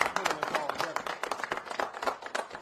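Crowd applause at a Black Men for Voting Rights gathering honoring Black Voters Matter, dense rapid clapping from many hands held steady throughout, with voices mixed in.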